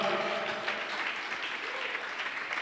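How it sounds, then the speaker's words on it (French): A church congregation applauds in a dense, continuous wash of clapping that holds steady throughout, moderately loud with no voices standing out. "Est-ce que tu peux acclamer la parole de Dieu correctement?"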